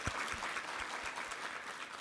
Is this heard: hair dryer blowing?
no